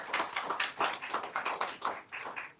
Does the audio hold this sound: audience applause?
yes